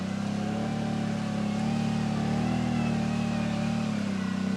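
A 2024 Kawasaki Brute Force 750 ATV drives through mud, its engine giving a steady, close, droning hum that holds at an even level with slight swells throughout.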